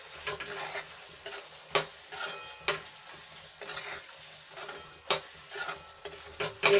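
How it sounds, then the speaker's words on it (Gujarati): Spices being stirred into tomatoes in a pan for Ratlami sev tomato curry, with a spoon scraping and knocking in irregular strokes over a soft sizzle, close and fairly quiet, no talking. "એક મિનિટ સુધી આપણે સરસ રીતે મસાલા મિક્સ થઈ જાય ત્યાં સુધી હલાવતા રહેશું"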